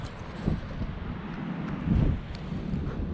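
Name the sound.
wind blowing over beach sand dune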